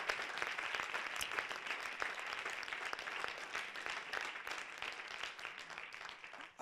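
Steady applause from a crowd, many hands clapping continuously, heard from a distance and fairly faint.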